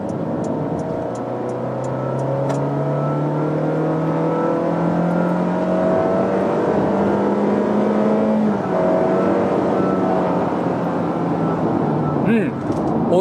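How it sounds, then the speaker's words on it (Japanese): A 2024 Honda Freed Air EX with a 1.5-litre petrol engine revs hard under full throttle from 50 km/h, pitch climbing steadily, dropping at a shift and climbing again, loud and close. "全開踏みます。"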